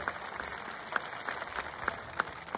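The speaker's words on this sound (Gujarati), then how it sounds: "હવે બધા તાળીઓ પાડો" A crowd at a village community rally in Sahesa claps together, a dense and steady patter of many hands heard from a middle distance, with a few louder individual claps standing out.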